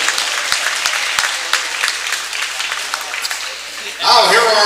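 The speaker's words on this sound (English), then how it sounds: "Let's have a round of applause for tonight's officials." A basketball crowd at a girls' high school game applauds the officials, a broad continuous wash of clapping with a few sharp individual claps, ending in a louder rumble of voices.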